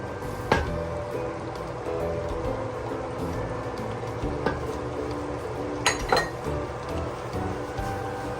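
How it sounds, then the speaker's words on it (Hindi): Half a cup of yogurt going into a pot of mutton karahi, with soft stirring and a few sharp metallic clinks of a spoon against the pot over a steady cooking background. "और साथ ही ये आधा कप दही है, ये भी मैं इसमें डाल दूंगी।"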